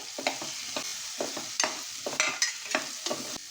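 Vegetables tossed into a hot pan while making pulao, giving a steady sizzle broken by repeated scraping stirs in a loose rhythm, close and moderately loud.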